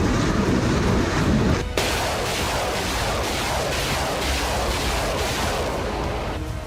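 Continuous heavy rumbling and crackling blasts of tank, artillery and rocket fire in Kherson, Ukraine, loud and dense, with a sharper burst partway through and no pause in the barrage.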